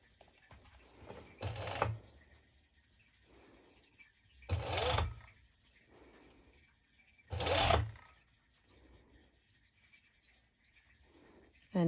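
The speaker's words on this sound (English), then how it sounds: "I'm going to serge it directly" A serger overlock machine stitches mesh shorts lining in three short, loud whirring bursts spaced a few seconds apart, with quiet handling noises between.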